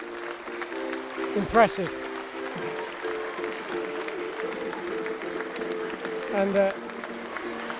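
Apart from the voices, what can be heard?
football crowd applauding at a women's match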